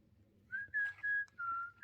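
A person whistles a short, faint tune of a few wavering notes, alone against quiet background, outdoors on a plateau in South Coyote Buttes, Arizona.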